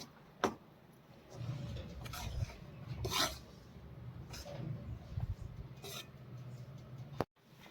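Spoon scraping and rasping against a pan as flour is worked together with ghee for sukhdi, a series of uneven rubbing strokes at close range with no talk.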